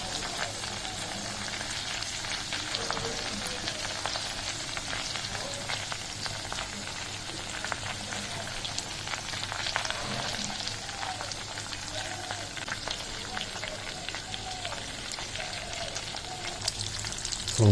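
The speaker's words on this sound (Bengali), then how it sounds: "পুরোপুরি ফেনাটা মরে গেছে এবং ঘিটা দেখুন ফুটছে" Homemade ghee rendered from milk cream bubbles in a pan once its foam has died down, giving a steady close crackle and sizzle of fine popping bubbles throughout.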